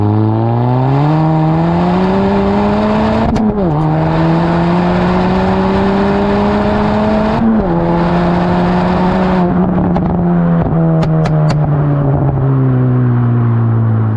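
A stage 2 tuned Mk4 Ford Focus ST accelerates hard with wheelspin, its engine note climbing loud and close through the gears with brief dips at each quick shift.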